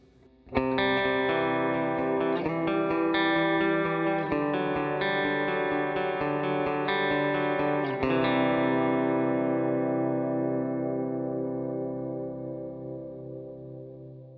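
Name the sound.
guitar reverb placed after the amps, HX Stomp stereo setup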